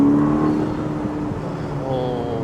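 A Ferrari SF90 Spider in race mode revs loudly and close, a sustained throaty engine tone that rises and shifts in pitch, with a faint voice underneath.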